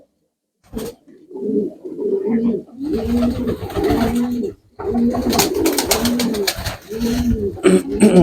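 White Bakin pigeons cooing in a village loft, loud repeated throaty coos in steady rhythmic phrases close by, with a brief voice speaking.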